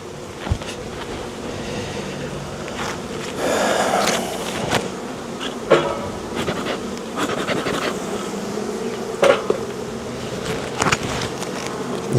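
Honey bees buzz densely around an opened brood hive during an inspection, a steady close swarm drone with occasional louder knocks and handling bumps, no talk.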